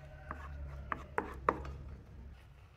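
A spoon stirs homemade baby porridge with carrot in a pot, giving a few soft scraping knocks and rubs against the pot at an irregular pace over a low steady background, with no voices.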